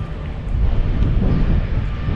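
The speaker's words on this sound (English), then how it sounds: "The wind is dropping. It might gust up again." Wind gusts with a broad, rough rush at a seaside fishing spot on the River Humber. The buffeting is loud and close, swelling slightly as it goes, and no one speaks.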